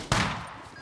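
A single sharp gunshot in the survival video game Scum, a loud close blast with a short decaying tail and no talk.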